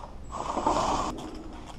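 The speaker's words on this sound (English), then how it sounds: "I'm going to tighten these to about 89 inch-pounds or so." Torque wrench ratcheting on valve cover bolts of a Ford 2.0/2.3 engine, a short close mechanical clicking run lasting under a second, then quiet, with no voices.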